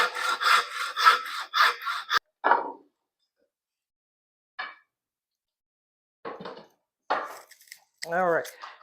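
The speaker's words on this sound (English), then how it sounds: "Take our crosscut saw." A hand crosscut saw cuts through wood in a child's toolbox project, giving a run of rhythmic rasping strokes close by, then scattered short scrapes and bumps separated by silences.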